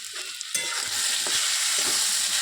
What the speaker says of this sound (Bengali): এবার একটু কষিয়ে নিই